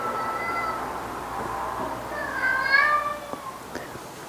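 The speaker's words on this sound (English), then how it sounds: "The cat is desperate for attention." A cat meows insistently for attention in a home workshop, several rising, drawn-out calls close by over steady background hum and faint talk.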